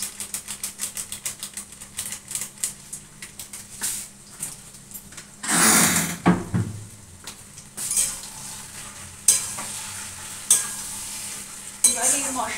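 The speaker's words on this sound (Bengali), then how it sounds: "এবার এই মশলাটা এখানে ভালো করে মিশিয়ে দেবো।" Ground spice masala of chilli, coriander and turmeric being mixed in a pan: rhythmic metal spatula scrapes and clinks against the pan over a light sizzle, with a louder burst of frying partway through.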